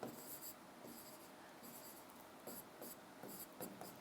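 Marker or chalk writing on a board during a maths lesson on sets, heard as bursts of scratchy strokes in quick groups across a few seconds, fairly faint with no talk over it.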